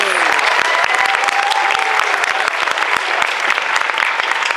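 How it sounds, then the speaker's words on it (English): Dense, steady applause from a large crowd for the judges at a cosplay championship in Sydney, loud and close, with a voice carrying over the clapping near the start. "Let's have a round of applause for our judges, please"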